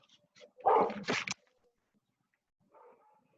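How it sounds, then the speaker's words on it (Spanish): A couple of sharp barks from dogs indoors, close and fairly loud, followed after a pause by a faint short whimper, otherwise quiet. "Ay, perdón, mis perros."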